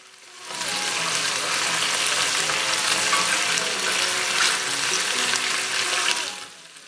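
Pork ribs fry steadily in hot oil in a pan, a dense, close, even sizzle that swells in after a brief quiet start and holds at full strength before cutting off.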